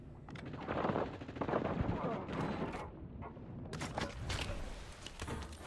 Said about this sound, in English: Stop shooting me! I ain't scared of a pistol fight.